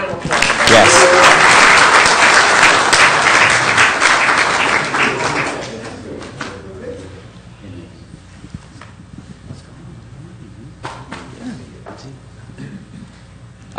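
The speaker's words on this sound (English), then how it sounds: "Give them a big round of applause." Loud, full audience applause at a city council meeting, lasting around five seconds before dropping away into quieter room sounds and murmuring voices.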